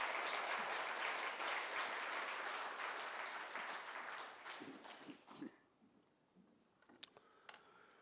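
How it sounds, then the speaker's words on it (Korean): A church congregation at an evening revival service gives a long, full round of applause that gradually thins into scattered claps and stops, leaving quiet room noise. "큰 박수로 우리 말씀 듣도록 하겠습니다."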